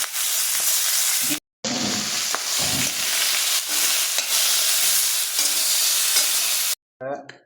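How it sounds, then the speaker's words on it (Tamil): Garlic pieces frying in hot oil until golden brown: a loud, steady close-up sizzle with stirring scrapes, broken twice by brief silences. "இதை போட்டு நல்லா கோல்டன் ப்ரௌன் ஆகிற வரைக்கும் ஃப்ரை பண்ண போகிறோம் ஒவ்வொரு பீஸையும்"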